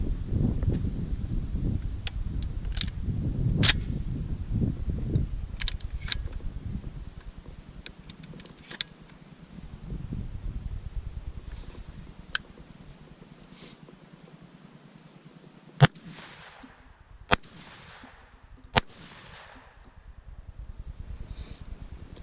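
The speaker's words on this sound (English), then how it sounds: "So let's get on with some of the Federal high brass." A Beretta A300 Outlander shotgun fires Federal high brass number 6 shells outdoors at a range: three sharp, loud reports come late in the clip, a second or so apart, after a stretch of wind noise and rustling.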